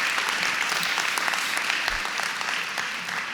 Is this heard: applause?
yes